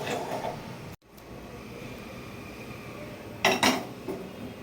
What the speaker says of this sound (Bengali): তরকারিটা আমার হয়ে গেছে ওটা ঢেলে দিচ্ছি